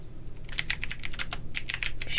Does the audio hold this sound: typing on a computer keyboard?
yes